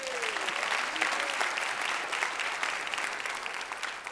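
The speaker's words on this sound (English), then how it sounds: "Give a round of applause to them." An audience at a Brooklyn borough president's State of the Borough address breaks into sustained, loud applause that fills the hall, with faint voices mixed in.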